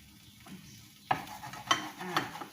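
Egg fried rice stirred in a hot pan: a quiet start, then scraping stirs and spatula knocks break in from about one second, with a soft sizzle underneath and no voices.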